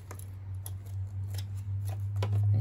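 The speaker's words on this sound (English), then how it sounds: "it's really easier to cut the sunflower in half, so I'm gonna start a cut here" A knife or blade cuts through a dried sunflower head in a few close, crisp snips and crunches, over a steady low hum in a quiet garden setting.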